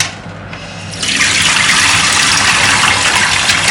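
Water gushes loudly from a pot of cooked broccoli into a sink as it is drained, starting faintly and then pouring as a strong, steady stream for several seconds.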